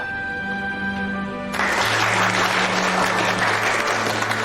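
Loud, dense applause bursts in suddenly after a sustained tone and carries on continuously, a room full of people clapping together at close range.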